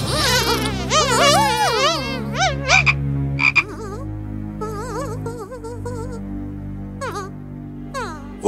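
Frogs croak close by in loud, warbling bursts and rattling calls, several voices overlapping in quick runs, then thinning to sparse chirps with short gaps, no talk.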